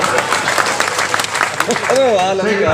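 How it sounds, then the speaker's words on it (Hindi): Applause from a comedy show audience, a dense wash of clapping under a voice that rises near the end. "एक बार इनके लिए जरा ताली बजा दो।"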